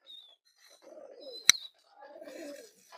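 Pigeons on a hobby farm coo in two low, soft bursts, with a sharp click between them and a thin chirp at the start, in quiet surroundings.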